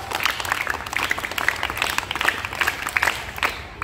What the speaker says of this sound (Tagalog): Isang palakpak! Isang palakpak! Maraming palakpak!